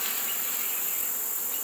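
Dense, steady buzzing of many honeybees at a hive, a close, continuous swarm drone with no other sounds.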